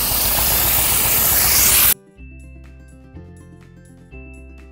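Water overflows the rim of a lotus-growing tub and washes dirt out, a steady broadband rush of running water that stops abruptly after about two seconds and gives way to music.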